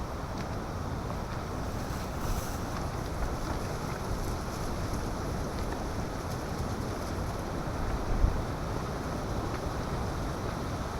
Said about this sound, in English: This is a very windy spot,